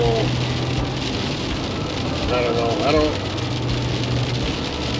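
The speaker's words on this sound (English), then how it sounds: "It's raining pretty hardcore out here" Heavy rain pours down outside, a dense, steady hiss drumming on surfaces with a low engine hum beneath, while someone speaks briefly.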